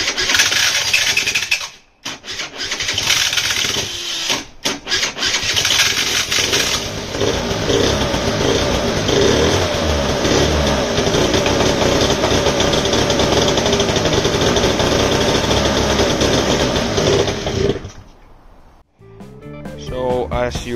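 A red Piaggio scooter, partly stripped of parts during a repair, cranks and fires up, then runs with a steady, loud buzzing putter for about fifteen seconds before cutting out abruptly.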